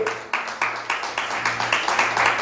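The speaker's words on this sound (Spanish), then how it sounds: "Dale un aplauso grande al Señor." A church congregation claps in a steady rhythm, about three claps per second, the sound building slightly louder toward the end, with no talking over it.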